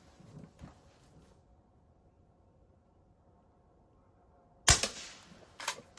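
A single sharp crack from a Crosman Vapor Max air rifle firing, close and loud after a quiet pause, followed by a short echoing tail and a fainter click.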